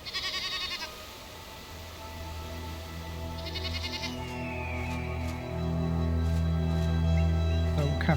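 Dark brown goats in the survival game Enshrouded let out bleats, one early and another midway, over a steady low musical drone and ambient game sound, with no talking.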